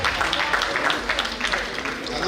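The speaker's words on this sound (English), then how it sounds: "Give him a round of applause." Applause from a banquet audience at a Rotary district town hall dinner, a steady dense patter of many hands filling the room at an even level throughout.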